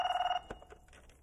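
A telephone bell rings loudly in a steady trill for about the first half-second of a Telugu film scene, then stops abruptly, leaving faint room sounds.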